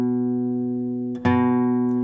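A single low bass note plucked on the fifth string of an acoustic guitar rings out and sustains, then is struck again partway through, the note blooming back up and continuing to ring.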